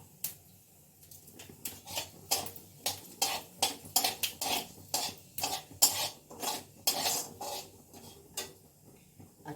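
A spoon stirs spices and chillies in hot oil in a pan, giving a quick run of sharp metallic scrapes and clinks that come in an uneven rhythm, close and clear over a faint background.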